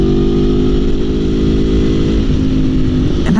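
A loud, steady engine drone from an Aprilia Tuono V4 naked motorcycle's exhaust, with strong harmonic tones holding throughout and a slight pitch dip and rev change near the end, no talking.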